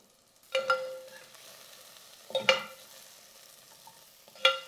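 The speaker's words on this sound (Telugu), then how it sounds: "ఫస్ట్ కొంచెం వేగాక మనము మునక్కాడలు వేస్తున్నాము." Drumsticks frying in a pan, a steady low sizzle broken by three bright clinks of a utensil against the metal as the pieces are stirred, with no talking.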